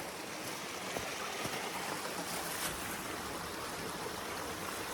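A creek in the Smoky Mountains flows in a continuous, even rush of water, soft and steady throughout with no talking.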